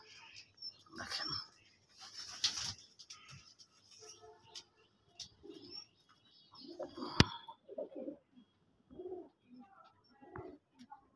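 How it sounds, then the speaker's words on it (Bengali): Red domestic pigeons in a backyard loft cooing in repeated low throaty bursts, close and moderately loud, with pauses between calls and occasional sharper sounds mixed in. "দেখেন লাল কবুতরের বাগান।"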